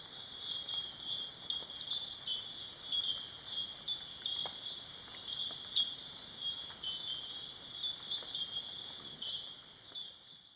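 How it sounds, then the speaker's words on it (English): Night chorus of many frog species in Costa Rica, a dense continuous high-pitched trilling din that holds steady throughout, with faint scattered clicks and chirps beneath it and no voices. "a beautiful din of all these many spectacular frog species calling"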